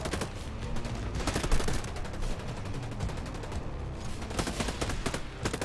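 Gunfire in Ghost Recon: Breakpoint cracks out in rapid automatic bursts, loud and dense, with short gaps between volleys and no talking.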